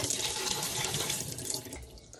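Cold tap water runs loudly into a bowl of rice for rinsing, a dense close splashing gush that tapers off slightly toward the end, with no one talking.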